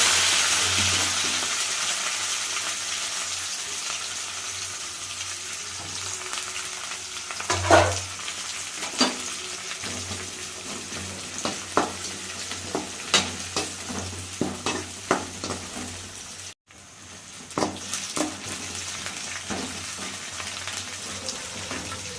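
Onions, garlic and curry leaves sizzle steadily in a hot pan, with a constant frying hiss and occasional stirring scrapes and clinks close by.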